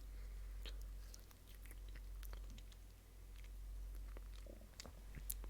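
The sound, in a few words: chewing a raspberry cheesecake crumble cookie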